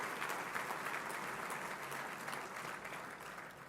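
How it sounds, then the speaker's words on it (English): Diners at a 2019 military fundraising dinner applaud Governor Tim Walz. A dense, fairly soft wash of clapping from a large room holds steady and fades slightly toward the end. "let's have another round of applause for Governor Tim Walz"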